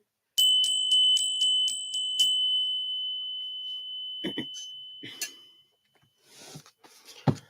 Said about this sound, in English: let's go ahead and touch the bell here for your overall well-being and good fortune